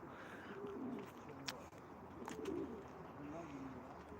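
Soft pigeon cooing in a Turkish pigeon-keeping setting, low repeated coos that are faint and distant, with a couple of brief sharper clicks partway through.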